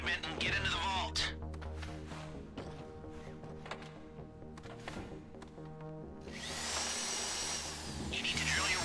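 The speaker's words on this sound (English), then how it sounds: "You need to drill your way through multiple discs in order to break the vault door lock." A drill grinding through vault door lock discs in GTA Online, a steady whirring tonal whine with shifting pitch, rising to a harsher, louder grind near the end.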